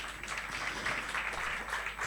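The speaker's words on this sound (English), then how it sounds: "Could we kindly give the moderator, the panelists, a hearty round of applause?" Brief burst of audience applause for a moderator and panelists at a public finance dialogue festival in Kenya, a dense steady clapping that holds for about two seconds.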